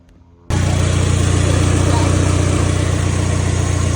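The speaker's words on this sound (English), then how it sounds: "It is idling steady at 1K RPM, and the AFR is solid at 14." Mazda Miata engine idling after an alternator belt replacement, starting abruptly and holding a steady, close, even drone with no revving.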